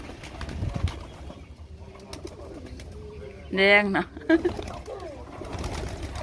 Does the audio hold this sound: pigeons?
yes